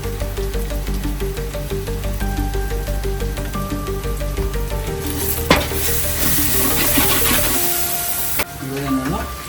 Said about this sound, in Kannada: ಈಸ್ಟರ್ನ್ ಅವ್ರದ್ದು ಕಾಶ್ಮೀರಿ ಚಿಲ್ಲಿ ಹಾಕ್ತಾ ಇದ್ದೀನಿ, ಖಾರ ಪುಡಿ ಎಣ್ಣೆ ಜೊತೆ ಹಾಕ್ತಾ ಇದ್ದೀನಿ.